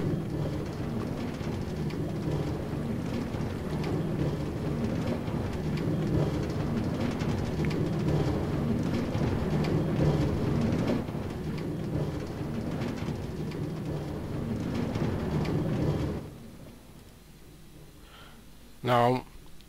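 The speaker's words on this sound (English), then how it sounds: "I like the sound that the railroad make now." Minecraft train rolling along railroad track in the FTB modpack, a steady rumbling clatter lasting most of the way before cutting off, followed by quiet and a brief click.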